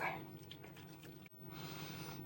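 Water dripping and trickling while hair is washed in a bucket inside a van, faint close splashes and drips against a quiet background.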